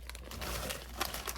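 A short burst of crinkling plastic with quick snipping and tearing sounds as scissors cut a plastic bag, close by and moderately loud.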